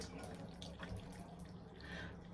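Faint, soft trickle of tap water being splashed onto hands while rinsing a creamy face cleanser at a sink, a quiet continuous wash with no talk over it.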